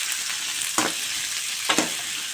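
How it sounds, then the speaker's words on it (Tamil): Onion, tomato, green chili and ginger sautéing in oil in a pan, a steady close sizzle with two brief stirring scrapes. "வானலில் எண்ணெயை ஊற்றி இந்த வெங்காயம், தக்காளி, பச்சை மிளகாய், இஞ்சி எல்லாத்தையும் போட்டு நல்லா வதக்கிடணும்"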